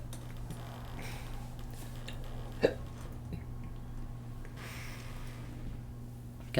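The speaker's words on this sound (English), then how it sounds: "Got the hiccups." A single short hiccup stands out once near the middle, faint and close, over a steady low electrical hum with no talking.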